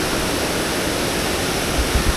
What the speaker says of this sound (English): I mean, can you call that a waterfall?